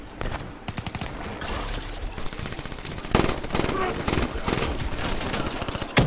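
Rapid automatic gunfire bursts and shots in the video game Black Ops 3, loud and close, repeated volleys across the clip with game effects layered in.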